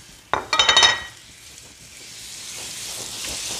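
Tomatoes drop into a pan of sautéed garlic with a sharp clatter and a short burst of sizzling and scraping, then settle into a quieter, steady frying hiss.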